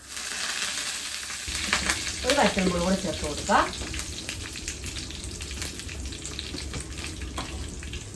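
Mustard seeds crackle and spit in hot oil for sambar with a steady sizzling patter while a person speaks briefly over the cooking.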